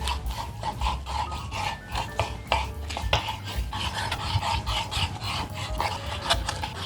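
A knife works through a chuck roast on a board, cutting it into big rustic chunks for Indonesian rendang. Rough rasping and scraping strokes repeat steadily and sit close.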